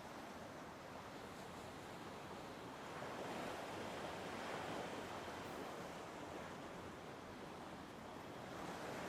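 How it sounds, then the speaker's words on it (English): Ocean waves surge and wash in a soft, continuous roar, swelling gently in the middle, with a faint breeze brushing past. "Enjoy the sounds of the waves."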